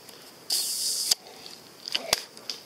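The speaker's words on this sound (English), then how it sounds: "Oh, I just spray painted my camera." Aerosol spray paint can hissing in a sustained burst of about half a second, close and fairly loud, during a mower side panel repair, followed by a sharp click and fainter short spurts and rattles.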